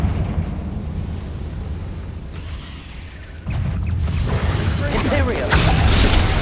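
A Confringo spell explodes in the Hogwarts Legacy video game with a loud low rumbling blast that swells midway and keeps roaring with crackling debris.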